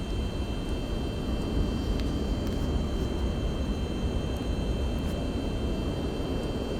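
A steady, droning aircraft engine in the video game Microsoft Flight Simulator 2024 hums continuously at an even level, broad and rumbling, with no talk over it.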